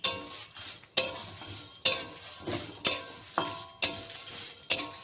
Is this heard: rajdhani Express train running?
no